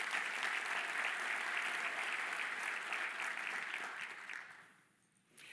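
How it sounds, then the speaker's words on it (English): A conference audience at a CEO summit panel claps steadily for a panelist, a dense wash of applause that holds for several seconds before tapering off near the end. "Give Emily a round of applause."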